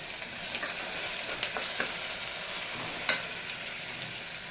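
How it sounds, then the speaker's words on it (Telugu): Soaked masoor dal frying with onions in a pan makes a steady, close sizzle and crackle, with a few louder scraping stir sounds and no voices. "ఆనియన్, వేసినాక మనం కడిగి నానబెట్టుకున్న పప్పు అండి వేసేస్తున్నాను"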